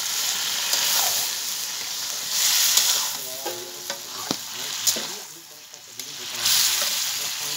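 Water hits a hot pan of desi chicken curry with a loud sizzling hiss, followed by stirring and clattering that drop to quieter bursts and then surge again, all close by.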